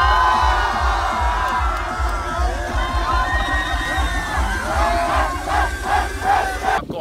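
A dense street crowd at a magic show cheers and shouts together, loud and continuous, with rhythmic chanting building in waves near the end.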